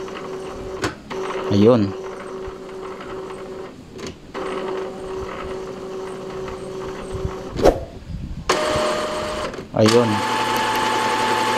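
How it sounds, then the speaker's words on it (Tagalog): Epson L3210 inkjet printer running with its print head shaking, giving a steady mechanical buzz that stops and restarts in several long stretches, with someone talking briefly in between. "Ayan o, parang nanginginig yung print head."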